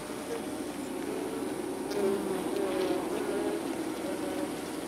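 A honey bee colony under a house buzzing, a dense, steady drone of many bees close by that swells slightly midway, with no talking.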